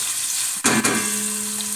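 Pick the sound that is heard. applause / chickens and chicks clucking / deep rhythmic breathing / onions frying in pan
onions frying in pan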